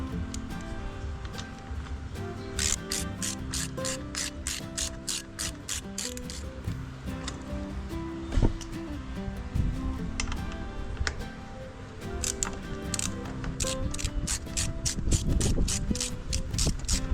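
Ratchet wrench tightening the rear brake caliper bracket bolts on a 2018 Triumph Bobber Black motorcycle, with a long run of rapid, close metallic clicking bursts in repeated strokes.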